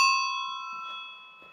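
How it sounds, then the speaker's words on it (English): A vintage Raleigh Superbe bicycle's bell gives one bright, close ring that decays slowly. Its metallic tone lingers over the whole moment with no voices. "Our ding dong bell. Absolutely fabulous bell. One more time."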